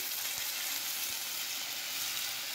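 Spice masala for fish curry frying in a pan as hot water goes in, a soft steady hiss and sizzle with a couple of faint stirring knocks, close and quiet.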